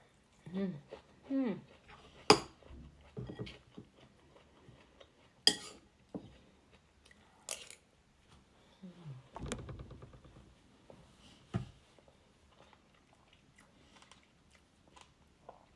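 Sweet corn being bitten and chewed close up, with soft crunchy bites and moist chewing sounds scattered through the stretch, a few sharp clinks in between, and someone talking at times.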